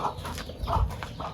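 Free-range village hens being set on eggs in nesting boxes give low, soft clucks in short bursts, close by with no talk.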